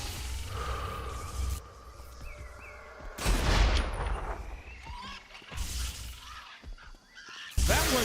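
Gunfire in a Saints Row the Third Genki Bowl VII shooting event on PS4: bursts of loud game shots and explosive blasts in several clusters, with quieter gaps and background game effects between them.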